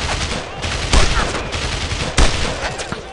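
Sustained gunfire from the WWII shooter Brothers in Arms: Road to Hill 30 crackles continuously, with two heavy, close blasts punching through the steady rattle of rifles and automatic weapons.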